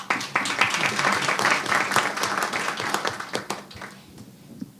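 A conference audience applauds steadily, a dense patter of many hands clapping that fades out toward the end, with a little talk underneath.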